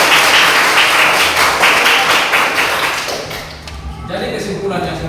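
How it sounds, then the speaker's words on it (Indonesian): Classroom students clapping for their classmates' group poster work during a counseling lesson on bullying, loud and brisk at first and then thinning out, with voices mixed in. "coba tepuk tangan untuk semua"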